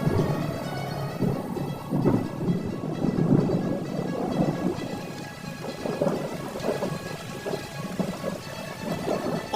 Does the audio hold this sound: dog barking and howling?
no